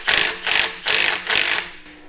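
A wrench works a stuck axle bolt on an LJ20 truck that sat 40 years in the Sierra Nevada, giving four loud, close ratcheting bursts in a steady rhythm before it breaks free.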